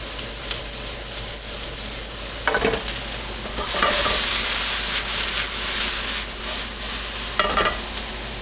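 Vegetables for a Niçoise ratatouille sauté in olive oil in a skillet, a steady broad sizzle with scraping stir strokes around two to three seconds, again near four and near seven and a half, close and moderately loud, no voices.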